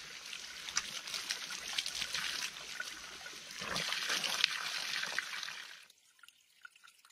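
Clean water from a piped stream source in a winter forest trickles and splashes steadily at close range, then stops abruptly, leaving faint scattered drips and near silence.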